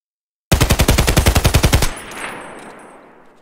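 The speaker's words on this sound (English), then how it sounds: "So at first I'll shoot standing still, right?" An Sa-58 rifle in Escape From Tarkov fires a rapid automatic burst of about fifteen loud, evenly spaced shots, then the echo trails away.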